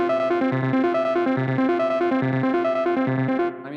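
A Korg miniKORG 700FS analog synthesizer plays a steady, buzzy repeating melody through chorus and distortion effects, loud and continuous, with notes stepping in a regular pattern before cutting off near the end.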